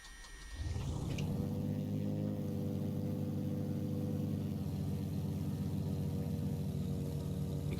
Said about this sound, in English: Crack the throttles and start engine number 2.